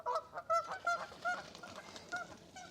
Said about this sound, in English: There's geese in the river. They're honking.